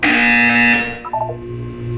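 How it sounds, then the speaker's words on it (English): Harsh electronic buzzer from the video game Portal 2 sounding once, loud and brassy for under a second, then fading into quieter game tones and a low hum. "When you hear the buzzer, look down at the floor."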